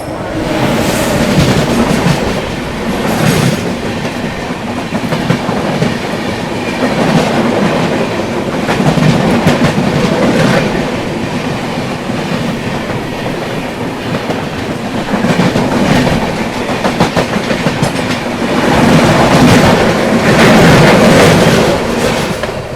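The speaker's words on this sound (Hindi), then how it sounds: "यहाँ पर अपने से क्रॉस होती हुई LTT पटना जनता एक्सप्रेस।" The LTT Patna Janata Express crosses close by, a loud, sustained rush of a passing train with rhythmic clickety-clack from wheels on rail joints throughout.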